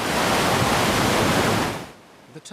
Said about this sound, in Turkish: Okyanustan gelen bu dalgalar giderek yükselir ve şiddetlenir.